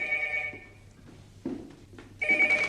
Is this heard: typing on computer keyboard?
no